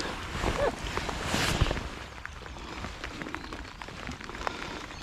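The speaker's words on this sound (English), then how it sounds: "Okay, it's going to be a rainy day." Light rain patters steadily on surfaces outdoors by a river, a soft continuous close hiss with a few louder drops and faint movement.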